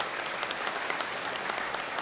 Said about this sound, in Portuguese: Uma salva de palmas a Frei Sérgio